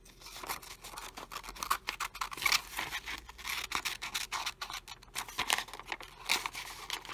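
Scissors snip through a paper net for a three-dimensional figure, giving repeated crisp cuts and crinkles of paper at close range, alone with no talk.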